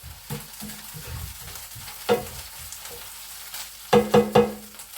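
Egg curry fries and sizzles steadily in a pan, broken by a few sharp clinks and scrapes of stirring, with no voices.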